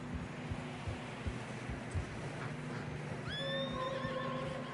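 A horse in Red Dead Redemption 2 whinnies clearly in a rising then falling call near the end, over soft repeated hoof clops on fresh snow and a windy background.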